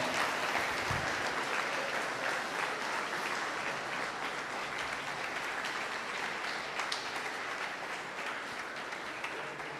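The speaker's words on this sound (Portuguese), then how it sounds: "Você pode aplaudir o Senhor." A church congregation at a pastor's installation service applauds steadily, a dense continuous patter of many hands filling the room at an even level for the whole stretch, fading slightly near the end.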